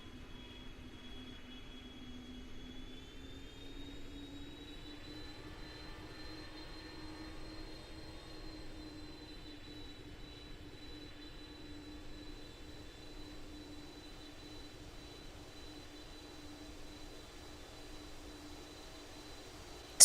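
A Roblox airliner rolls down the runway for takeoff in a flight simulator, a steady engine drone with a rising whine held throughout at moderate level, with no voices.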